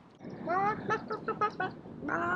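Beside a chicken coop at a historic heritage village, a person mimics a chicken with a string of nasal clucks and squawks, loud and close.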